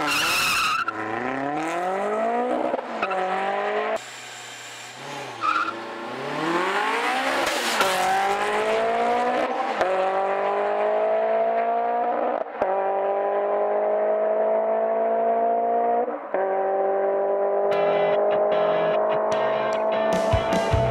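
HKS-tuned 2.2-liter Honda S2000 launches from 3500 rpm with a burst of tire squeal, then the engine howls up through repeated gear changes, each shift a brief dip before the rising, loud, close-by wail resumes.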